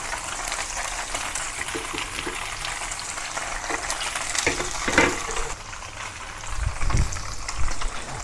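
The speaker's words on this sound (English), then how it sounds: "don't have to coat the tofu with cornstarch, just like that, plain, straight into the oil" Plain firm tofu, uncoated with cornstarch, fries in hot oil in a pan, giving a steady close sizzle with occasional louder crackles and pops.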